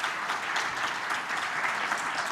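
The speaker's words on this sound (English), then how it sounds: "let's give a round of applause to our panelists" Brief round of applause from the audience for a panel at a governance convention in Uganda, even, moderately distant clapping lasting a couple of seconds.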